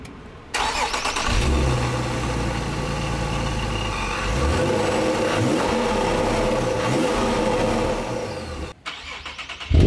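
Nissan 370Z fitted with a Stillen supercharger cranks and fires up, then runs loud and close with a deep, steady engine note and slight revving, before cutting off near the end.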